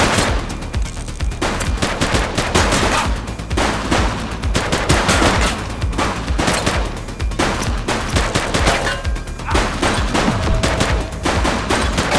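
Police open fire in the video game The Precinct: sustained, loud bursts of rapid gunshots and automatic fire rattle on for over ten seconds, dense and close with no pause.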